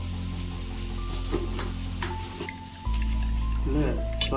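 Spice mix of chilli, cumin and coriander powder stirred in a pan for a quick chicken dish, a steady close sizzle with soft scraping and ticking, dipping briefly before a louder frying hiss resumes.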